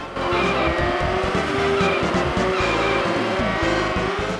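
A racing car engine roars in Stunt Race FX on the SNES, a loud, continuous buzzing engine tone with shifting pitch and squealing tires throughout.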